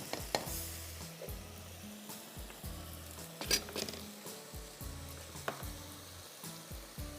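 Ginger, garlic and spices fry in a pan with a soft, steady sizzle, broken by repeated light scrapes and taps of a stirring spoon, quiet and close with no talking.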